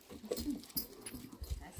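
A schipperke dog gives soft, brief whimpers and yips close by over about two seconds, in a quiet indoor setting with no talk.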